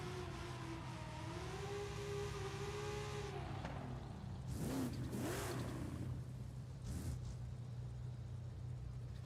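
Cars in the Forza racing game rev and whine with rising, falling engine pitch over a steady mechanical hum, followed by a few sharper bursts of acceleration, all fairly faint and with no talking.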